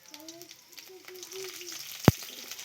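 Onion and slit green chili hitting hot oil in a pan after whole spices, giving a soft, brief sizzle with a sharp clatter near the end, under quiet talk.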